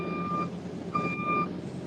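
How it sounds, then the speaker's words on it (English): A truck backing in alongside gives two steady electronic reversing beeps about a second apart, moderately near over a continuous engine and road rumble. "There's a truck backing in beside of me."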